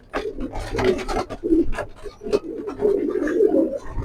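A flock of pigeons cooing continuously up close, overlapping throaty calls with soft flutters and shuffling.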